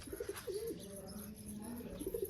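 Pigeons kept at home in Gujarat, soft throaty cooing calls repeating close by, quiet against light background noise.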